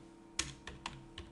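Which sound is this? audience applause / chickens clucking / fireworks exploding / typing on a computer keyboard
typing on a computer keyboard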